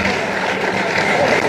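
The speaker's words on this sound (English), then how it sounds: "Yeah, a resounding applause." A loud, dense burst of audience applause for executives at a university event in Ghana, steady and continuous throughout with a crowd murmur mixed in.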